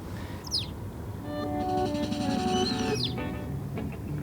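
Birds chirping and trilling nearby, several quick high calls over a steady background chorus, with no voices.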